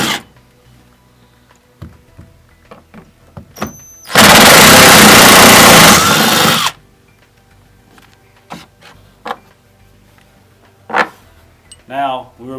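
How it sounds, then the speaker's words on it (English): Power driver with an 8mm socket backing out lower strut hardware: one loud, sustained whirring burst of about two and a half seconds, framed by quieter clicks and handling noises. "Next step, we'll remove our lower strut hardware with an 8mm socket."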